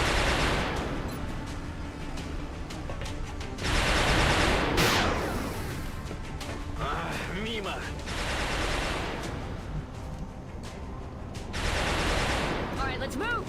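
Gunfire in the video game XCOM Long War: several loud bursts of rapid shots separated by quieter stretches, with someone talking over and between them.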